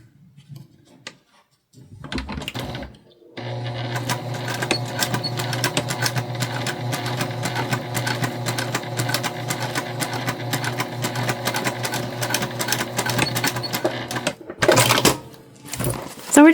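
A sewing machine stitches a holiday makeup bag in one steady, loud mechanical run lasting about eleven seconds. Brief handling noises come before it and a short burst follows.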